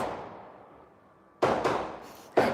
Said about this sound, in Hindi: पटाखे बज रहे हैं यहाँ पे।